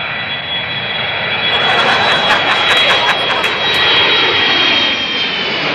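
A fixed-wing airplane flies overhead as a comedy sound effect, a steady broad jet-like roar that swells slightly louder in the middle and stays prominent throughout, with no talk over it.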